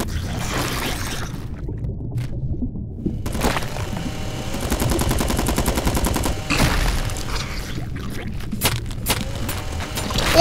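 Cannon box firing in the video game King of Crabs: a dense run of crackling, gunfire-like blasts and impacts, loud and continuous across the scene with no talk.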